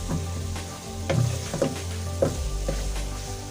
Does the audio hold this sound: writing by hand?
no